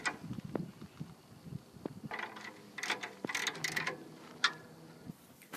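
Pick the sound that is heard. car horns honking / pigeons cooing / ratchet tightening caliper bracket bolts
ratchet tightening caliper bracket bolts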